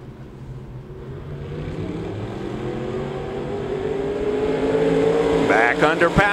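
A dirt-track race car at Devil's Bowl Speedway accelerates back under power, its engine note climbing steadily and growing louder over six seconds, with a commentator talking over it and brief sharper engine sounds near the end.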